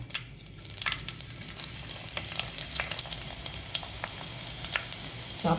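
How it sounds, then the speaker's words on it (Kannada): Chopped onions and curry leaves sauté in a pan as the base for a Mangalorean lady fish saaru, with a continuous sizzle and scattered sharp pops and crackles up close, and no speech. "ಆನಿಯನನ್ನು ಹಾಕಿ ಇದನ್ನು ಸ್ವಲ್ಪ ಸಾಟೆ ಮಾಡಿಕೊಳ್ಳೋಣ ಚೆನ್ನಾಗಿ"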